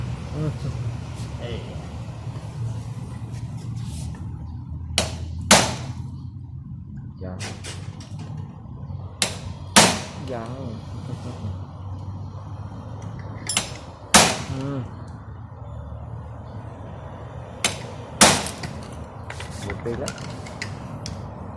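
Sharp metallic hammer strikes ring out irregularly, driving out a motorcycle chain pin, a handful of loud blows spaced a few seconds apart over steady background hum and low talk.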